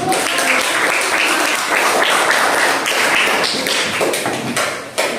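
Classroom applause for a discussion group in a teacher training session: a roomful of people clapping loudly and continuously at close range for several seconds.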